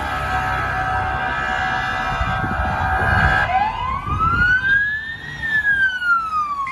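A toy police car's electronic siren: a steady buzzing tone gives way midway to a single loud, close wail that sweeps up and then slowly falls.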